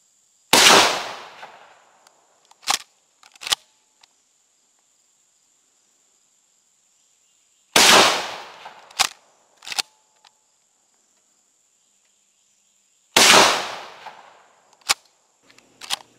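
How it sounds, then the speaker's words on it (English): Aria Devastator 12 gauge hunting slugs fired from a rifled shotgun barrel off a bench: three loud, sharp blasts spaced several seconds apart, each followed by a couple of short metallic clacks, with a steady insect buzz behind. "this ammo will shoot a ragged hole at 50 yards out of a rifled barrel off the bench"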